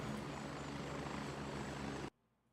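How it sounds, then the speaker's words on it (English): A helicopter landing in the Gray Zone Warfare video game, a loud, steady rotor and engine roar that holds for about two seconds, then cuts off abruptly into near silence. "now there's a chopper landing"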